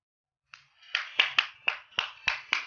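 About seven separate hand claps at a slow, slightly uneven pace, close and fairly soft, given at home to cheer on a small child learning to write; no one speaks.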